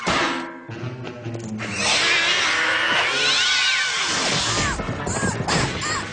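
A cat meows and yowls loudly several times amid scuffling and a crash-like burst, close up.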